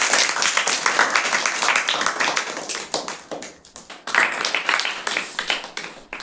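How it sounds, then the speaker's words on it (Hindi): At a school environmental eco-club role-play event in Bihar, an audience claps loudly in dense, energetic applause that briefly fades midway and then swells again. "जोरदार ताली बजाएं।"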